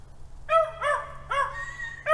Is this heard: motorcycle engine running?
no